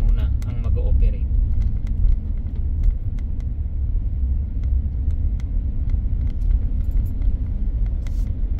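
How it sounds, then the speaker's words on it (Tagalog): Road traffic on Quirino Highway rumbles steadily as a continuous low drone of passing vehicles, with occasional clicks and faint higher noises above the engine din. "Medyo traffic dito sa parting to."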